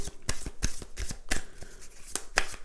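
Two tarot decks are shuffled in a mirrored spread, giving a rapid run of crisp papery riffles and slaps at close range, with no voices.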